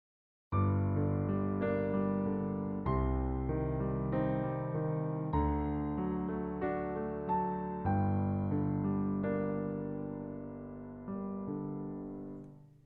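Solo piano playing a flowing arpeggiated chord accompaniment, broken chords rolling steadily through a slow progression, clear and alone.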